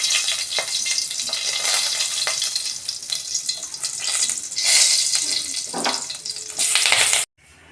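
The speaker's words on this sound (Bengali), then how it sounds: "আমি এই যে তেল দিচ্ছি, তেজপাতা একটা নিয়েছি, শুকনো লঙ্কা, অল্প পাঁচ ফোড়ন আর আদা ঘষে নিয়েছি। এটা আমি ফোড়নে দেবো।" Bay leaf, dry red chili, panch phoron and grated ginger sizzle and spit in hot oil, a loud crackling fry with bursts of stronger spattering and stirring, ending abruptly in near silence.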